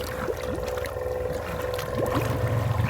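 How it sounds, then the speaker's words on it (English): A cheap four-wheeler ATV runs with its snorkel drawing in water, producing gurgling, slurping bursts over a rough engine drone, close and continuous, with splashing water around it. "I literally hear the snorkel slurping water."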